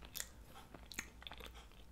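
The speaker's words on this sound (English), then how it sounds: "Back to the gordita crunch here real quick." Someone chews a Taco Bell gordita crunch up close, with soft, irregular crunching bites and wet mastication at a low level and no talking.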